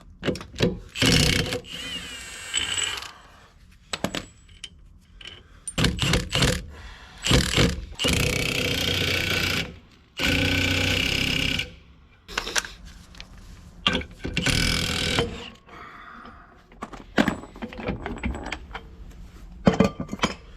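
Cordless impact gun working on the brakes of a 1954 Plymouth Savoy, with loud repeated rattling bursts of a second or two each, separated by pauses and close metallic clinks of tools and parts.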